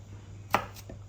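A knife cuts through a ripe mango in the kitchen with a single sharp chop on a board, followed by a softer tap. Both sounds are close and brief over a low hum.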